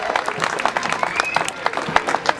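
Scattered, uneven clapping from parade onlookers greeting the American Legion Auxiliary from Mariposa at the Mariposa Butterfly Festival parade, close and irregular, with a brief tonal whistle partway through.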